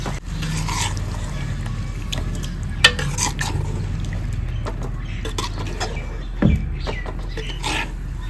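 Spiced yogurt chicken is stirred into masala in a handi pot over an outdoor mud-kitchen fire, with steady scraping and occasional sharp metal clanks; birds chirp faintly in the background.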